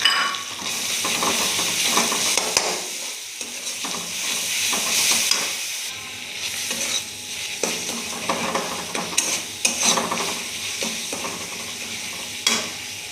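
Onion frying in a pan with ginger and garlic paste stirred in for a Bengali prawn malai curry, a steady close sizzle and hiss with scraping stir strokes and occasional pan knocks, no talking.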